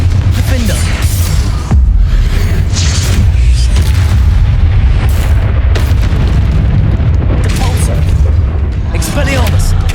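Repeated Confringo blasting-spell explosions in the combat of Hogwarts Legacy hit as loud, deep booms in quick succession, with sharp bursts cutting through a dense, rumbling battle soundscape.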